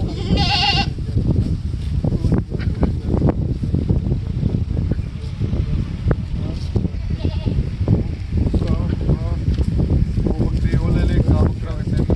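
Goats bleat repeatedly and loudly up close at a goat market in Sukhna Abloo village, amid a busy, noisy outdoor scene with people talking over them.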